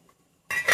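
A lid goes onto a cooking pot of mushrooms: after a near-silent pause comes one close, bright metallic clink and rattle that settles briefly.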